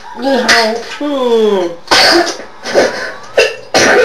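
A young child coughs in several short, harsh bursts, with a voice heard just before the coughing.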